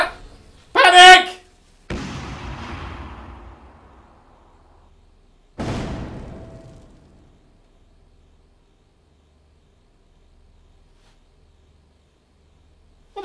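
Dynamite blast and fire in the shooter game Hot Dogs, Horseshoes & Hand Grenades: a sharp burst followed by a booming explosion that rumbles and fades, then a second blast, leaving long near-silence.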